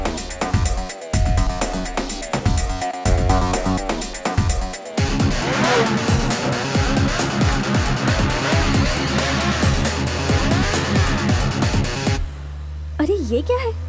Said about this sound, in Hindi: कैसे बाइक चला रहे हैं लोग?